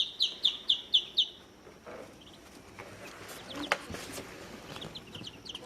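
One-day-old Muscovy ducklings give a quick run of five loud, high peeps up close, then fall quiet over a soft background, with a few fainter peeps near the end.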